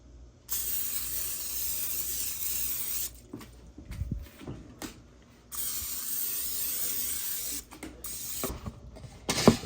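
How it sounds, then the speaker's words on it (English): Several long hissing bursts of cooking spray onto cookie baking pans, separated by short pauses with light clinks and handling noises between them. "So I'm about to spray them really quick."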